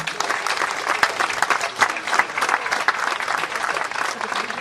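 Audience at an Italian song festival applauding the caretakers, a dense, steady clatter of many hands clapping close and loud throughout, with no voices standing out.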